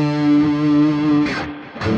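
Electric guitar played through the room reverb setting of a Boss ME-90 multi-effects pedal, a sustained distorted chord ringing with a lingering wash of reverb, then two short strummed bursts near the end.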